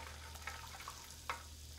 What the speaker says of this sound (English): So I'm going to put just a little bit of shallots in here. I'm going to saute them